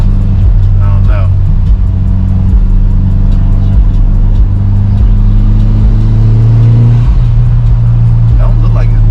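A Mitsubishi Evo 8 engine pulls hard through third gear, a loud sustained drone from inside the car that rises steadily in pitch, with talk over the engine throughout.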